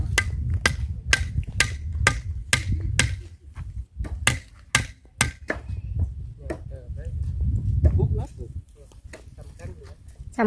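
Sharp, regular hammer blows driving wooden posts ring out in steady bursts, with people talking nearby in between and over the strikes.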